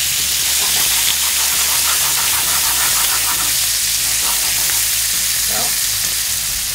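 Lemon slices and capers sizzling loudly in a frying pan for fish piccata, a dense, steady hiss of hot fat with faint stirring clicks, close up and continuous.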